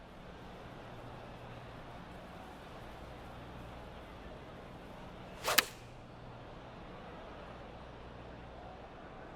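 A single sharp swish of a 50-degree wedge approach shot in the golf video game PGA TOUR 2K25 cuts through quiet ambient background about midway, brief and crisp.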